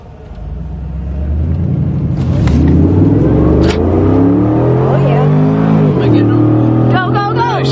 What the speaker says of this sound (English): Last race, Panamera, the ugly Porsche.